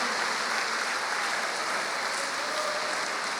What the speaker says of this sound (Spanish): Denle un fuerte aplauso, hermano, a Jehová, al Rey de Gloria.